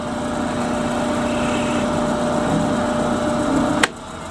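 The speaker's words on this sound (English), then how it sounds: "go down in there and we'll drill it out" A high-pitched power drill whines steadily as it bores a hole into a wooden walking stick, then cuts off abruptly with a sharp click just before the end.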